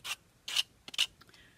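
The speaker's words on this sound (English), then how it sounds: "do a little sanding here" Several short, scratchy strokes of sandpaper rubbing by hand, close up, in quick bursts separated by brief pauses.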